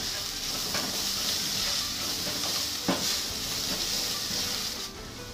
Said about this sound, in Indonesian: setelah minyak panas tumis bawang putih dan jahe aduk rata